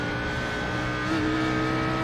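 Audi R8 GT3 race car engine in a racing sim at Bathurst, droning steadily as the throttle opens, pitch rising slightly partway through, loud and continuous with no voices.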